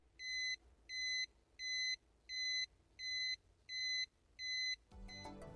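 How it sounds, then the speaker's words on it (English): A car tire pressure monitoring gadget gives a loud alert of seven evenly spaced high electronic beeps, each about half a second long, followed by a burst of broader noise at the end. "you get a loud beeping sound"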